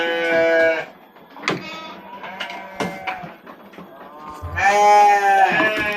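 Garut sheep at a breeding farm bleat loudly and close by in two long wavering calls, one at the start and one at the end, with quieter shuffling, brief animal sounds and a few softer bleats in between.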